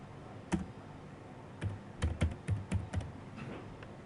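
Computer keyboard keys tapped in short irregular bursts while a folder name is typed, close clicks over a quiet background with pauses between groups of keystrokes.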